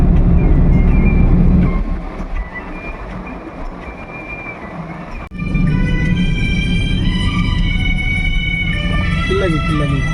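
A car travelling on the NH44 highway, a steady loud road and engine rumble filling the whole stretch, dipping briefly then surging back with passing traffic tones near the middle.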